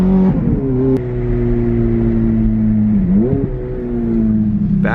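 A Ferrari F430 with a muffler-delete straight-pipe exhaust holds a loud, steady, tonal drone up close, dipping and swelling with a quick blip of revs midway before climbing again.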